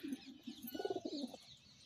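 Pigeons give soft, low rhythmic coos in a short burst of several pulses, faint and close, with no talking.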